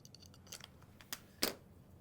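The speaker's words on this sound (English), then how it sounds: "using a pair of scissors helps" Scissors cutting fabric for a handbag, a few soft snips and light rustles close by, ending in one sharper, louder crisp cut, all faint against a quiet room.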